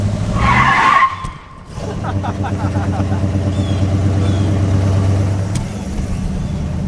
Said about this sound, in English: Do a little screech.